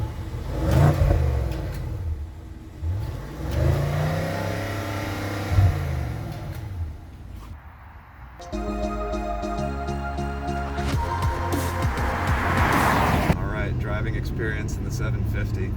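A BMW 750i xDrive with the N63 4.4-liter twin-turbo V8 revs up in several rising and falling bursts, close and strong, then settles into a steady engine drone while driving under a hum of cabin noise.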